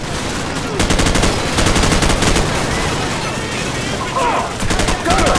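Rapid automatic gunfire from a Call of Duty 4: Modern Warfare battle, loud sustained bursts of machine-gun fire repeating in clusters with brief gaps between volleys.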